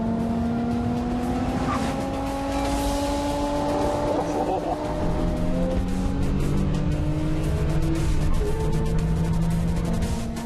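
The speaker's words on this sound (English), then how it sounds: "The Opel might have beaten the BMW in the drag race, but it cost the clutch." An Opel and a BMW drag racing on a superboss track, engines revving hard with rising and falling tones and tire noise, loud and sustained, with voices of a crowd or commentator underneath.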